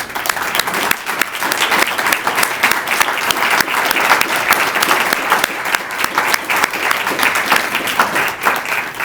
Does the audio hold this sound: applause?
yes